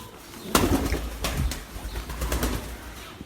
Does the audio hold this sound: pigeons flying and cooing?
yes